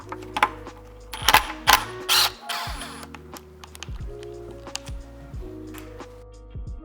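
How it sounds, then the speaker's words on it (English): A 3mm Allen key works the brake caliper screws loose on the rear of an Apollo Phantom 2.0 electric scooter. Close, scattered metallic clicks and small scrapes sit over a steady low hum. "I'm gonna use a 3mm Allen key to go remove the caliper from the bracket right here."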